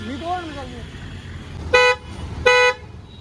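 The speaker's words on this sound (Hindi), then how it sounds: "अभी हम सुनाने वाले हैं आपको हॉर्न की आवाज़" Upgraded car horn sounding two separate honks of about a quarter second each, loud and close, with a voice talking faintly at the start and steady background hum.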